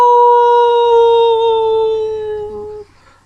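A single human voice imitating a wolf's howl, one long sustained tone that slowly falls in pitch for nearly three seconds before cutting off.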